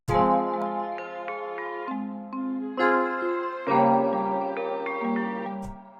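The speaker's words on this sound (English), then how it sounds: "So I just put a halftime on the bells." A slow, bright bell melody made in FL Studio with a halftime effect plays alone, sustained chiming notes stepping through a simple tune with clean, ringing tails.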